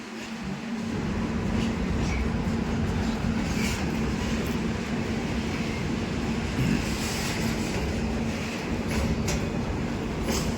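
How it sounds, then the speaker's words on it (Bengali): Freight trains pass through Raniganj railway station, a loud, continuous rumble of wagons rolling close by with faint rail clatter and squeal on top, steady for the whole stretch. "ওদিক থেকেও মালগাড়ি বেরোচ্ছে এদিক থেকেও মালগাড়ি বেরোচ্ছে"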